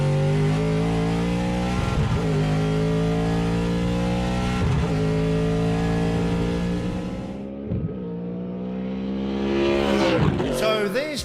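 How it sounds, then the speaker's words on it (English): A Supercars Gen3 V8 race car engine roars loud and close, holding a deep, rich drone broken by several sharp gear-change dips, then revving up hard toward the end. "It needs to sound like a big V8,"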